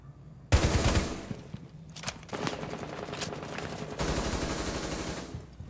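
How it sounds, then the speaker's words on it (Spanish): Gunfire in the Rainbow Six video game, with a sharp loud shot followed by sustained bursts of rapid automatic fire and further volleys, close and dominant throughout. "Fue un gran disparo en la cabeza y no me lo valió"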